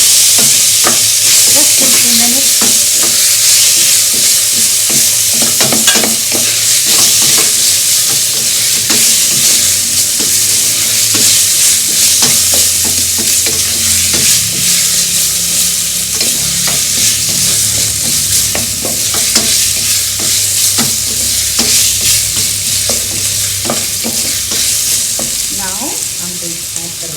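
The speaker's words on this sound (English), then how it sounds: "I'm going to saute this up. Okay, brown it a bit." Food sautéing and browning in a hot pan, with a loud, continuous sizzle and hiss close up and repeated scraping strokes of a spoon throughout.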